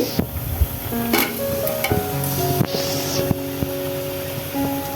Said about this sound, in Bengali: সেই পর্যায়ে আমি ম্যারিনেট করা মাংসগুলো দিয়ে দিচ্ছি।